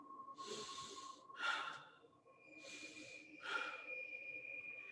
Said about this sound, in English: And she heard that breathing again.